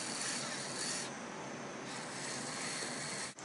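A rotary tool polishes Art Clay Silver at slow speed, making a continuous close, hissing rub with slight swells in loudness and a brief dip near the end.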